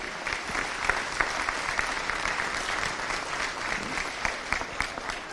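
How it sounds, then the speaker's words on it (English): Crowd applause at a Leinster camogie championship final, a sustained round of clapping with sharp individual claps standing out, fairly distant and filling the whole stretch. "all of our supporters should give both teams a huge round of applause"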